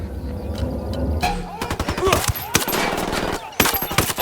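Gunfire rattles in the tactical shooter Ghost Recon Wildlands, with dense rapid bursts of automatic fire at close range and short pauses between them, over a low rumble of game ambience.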